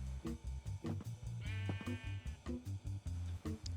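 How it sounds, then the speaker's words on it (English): Sheep bleat in the video game Minecraft, several short, wavering calls in a rhythmic series, close and clear over a faint ambient backdrop. "I saw these two sheep and decided I definitely needed a sheep farm."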